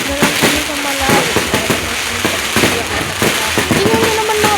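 Fireworks exploding outdoors in rapid succession, a loud string of sharp cracks and pops layered under someone speaking throughout.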